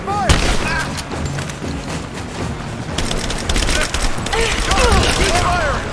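A firefight in the video game Rise of the Tomb Raider: dense, rapid bursts of gunfire crack and boom without letup, with shouted voices rising and falling through the shooting.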